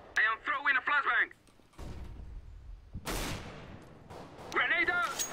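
A flashbang grenade goes off in Counter-Strike: Global Offensive as a sudden loud bang followed by a decaying ring, with short radio-like voice callouts from the game heard before and after.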